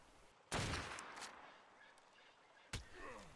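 Sniper rifle fire from a tower in Ark Survival Evolved, two sharp loud shots about two seconds apart, each trailing off in a short echo, with no speech.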